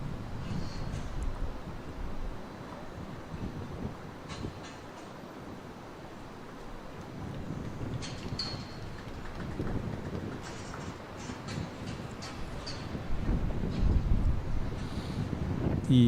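Steady morning wind gusts buffet the microphone outdoors at the Tanglin Club during a sports tournament, a continuous low roar that swells louder toward the end, with faint distant chatter.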